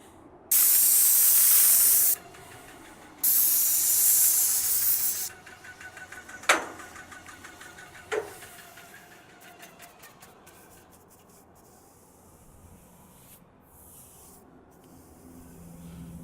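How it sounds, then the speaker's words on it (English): Airless sprayer applying Lifeline Ultra 7 stain to a log home, with two loud sustained hissing bursts of spray, followed by a couple of sharp clicks and quieter scraping, brushing sounds. "when using an airless sprayer"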